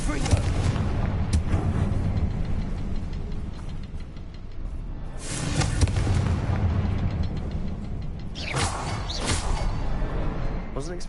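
Fiery spell blasts in Hogwarts Legacy on PS5, a run of booming bursts and whooshes, loudest around the middle and near the end, over a steady rumbling game background.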